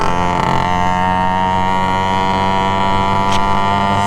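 A vintage TVS 50 moped with its 50 cc engine hums along at about 45 to 50 km/h, a loud, steady, tonal drone held the whole time.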